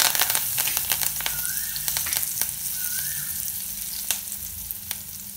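Curry leaves fry in oil for a puliyodharai mix, a loud, steady sizzle dotted with sharp pops and crackles, alongside a faint stir or two, with no talking.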